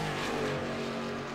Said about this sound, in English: And we can see the cars going into 3 right there.